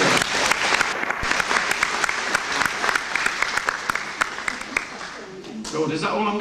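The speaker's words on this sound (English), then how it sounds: "Maybe it might be a good idea if I had a bit of applause before I start." A theatre audience at Blackpool Tower applauds an organist before his overture, a crowd's dense clapping with sharp individual claps near the mic, fading toward the end as a voice begins to speak.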